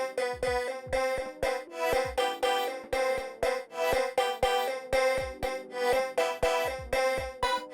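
Synth melody on a Vox preset chopped by a Gross Beat effect, bright stuttering notes over a punchy repeating kick pattern, steady and dense with no voices.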